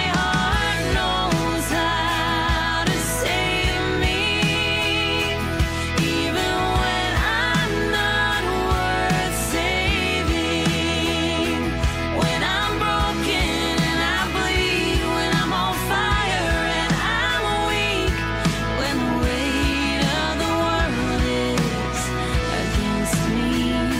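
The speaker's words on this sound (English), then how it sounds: "she just recently released a brand new single after a couple of years of not hearing anything" A full studio mix of a singer-songwriter's new single plays without a break, dense and loud, with steady bass under bright layered instruments and vocals throughout.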